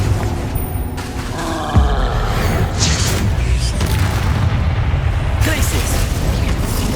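In the video game Hogwarts Legacy, the Confringo fire spell is cast mid-battle, a loud booming blast that rises into continuous roaring combat noise with crackles and rumbles throughout.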